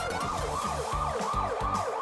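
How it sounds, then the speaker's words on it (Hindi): An ambulance siren wails in a continuous rising and falling cycle, steady and fairly loud, with no talk over it. "एम्बुलेंस शहजादी को अस्पताल ले गई"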